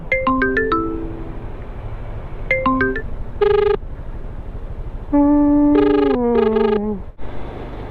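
Phone ringtone chiming over and over as a call is placed to a guardhouse contact, repeated melodic tones in close bursts with short gaps, loud and alone.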